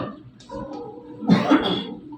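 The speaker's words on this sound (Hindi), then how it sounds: "थोड़ी सी मुझे खांसी हो गई है, ये प्रॉब्लम दे रही है बार बार" A single harsh cough, close and fairly loud, comes after a moment of quiet breathy throat sounds.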